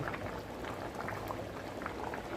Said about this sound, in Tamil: சூப்பராக குழம்பு கொதித்து ரெடி ஆகிடுச்சு